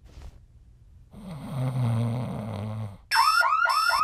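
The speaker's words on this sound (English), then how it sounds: "Probably just a fire alarm." In a cartoon, a loud electronic alarm with warbling, repeating tones blares suddenly after a low snoring rumble.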